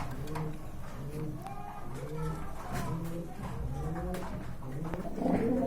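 Pigeons, including Velvet birds, coo repeatedly in low, throaty warbles at a pigeon sale, several birds overlapping close by, with steady background noise and no talking.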